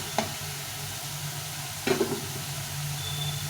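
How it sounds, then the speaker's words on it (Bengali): Chopped pointed gourd goes into a pan of frying egg and spice mix in oil, giving a steady sizzle with two short stirring clatters, the second one louder. "এখন আমি এর মধ্যে পটলটা দিয়ে দেবো"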